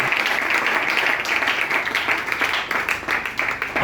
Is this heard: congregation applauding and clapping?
yes